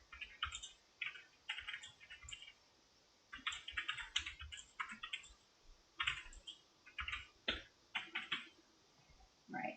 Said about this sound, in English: just type in the copy that I want there